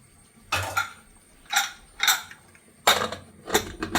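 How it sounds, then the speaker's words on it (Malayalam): A pressure cooker lid being closed over buffalo bone soup gives several sharp metallic clanks and scrapes in quick separate bursts, close and fairly loud with quiet gaps between them. "കുക്കർ ക്ലോസ് ചെയ്ത് കൊടുക്കാം."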